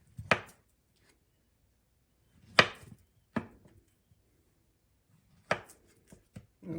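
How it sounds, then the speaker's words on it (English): A knife cuts plantains into round slices on a board, giving five sharp, separate chopping knocks spaced irregularly over several seconds, close and dry, with near silence in between and no talking. "then you can slice them like that"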